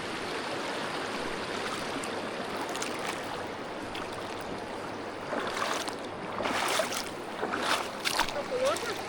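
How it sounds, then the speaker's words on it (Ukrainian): Cold mountain stream in the Carpathians rushing steadily over rocks, a broad continuous wash of water that swells slightly louder toward the end, with someone speaking briefly over it. "Водичка прохладна. Нормально тече."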